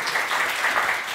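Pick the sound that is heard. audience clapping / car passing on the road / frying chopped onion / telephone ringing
audience clapping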